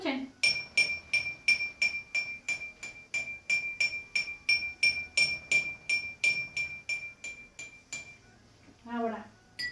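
Drinking glass struck over and over in a steady, even rhythm of bright ringing clinks, about twenty strikes, then a brief voice at the end.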